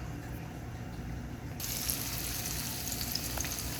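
Ho cake batter frying in hot grease over medium heat, a steady close sizzle with crackling that grows louder partway through as more batter goes into the pan.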